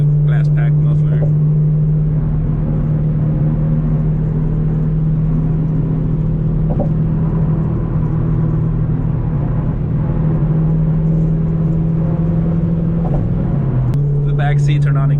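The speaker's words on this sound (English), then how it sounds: "that's kind of an annoying thing about this exhaust setup that I have. It's very drony" A 5th-gen Camaro SS, nearly straight-piped with only a glass pack muffler, drones loudly and steadily from inside the cabin with a constant low hum and a slight dip near the end.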